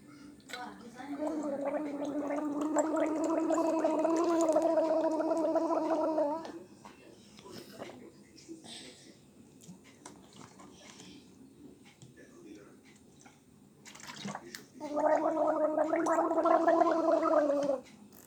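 A person gargles water in the mouth in two sustained bouts, a long one at the start and a shorter one near the end, with quieter room sound and faint movement between them.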